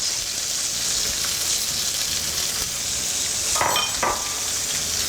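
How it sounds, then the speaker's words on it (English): Pork fillet sizzles loudly in smoking-hot olive oil with onion in the pan, a steady close hiss of frying with a brief clatter partway through. "So the olive oil's smoking a little bit. We're just going to pop the pork fillet in."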